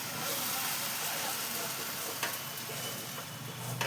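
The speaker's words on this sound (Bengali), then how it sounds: "এই যে লেগে লেগে যাচ্ছে, একটু নাড়িয়ে দিই।" Taro paste frying in a pan and being stirred, a steady close sizzle and hiss with occasional scraping stir sounds.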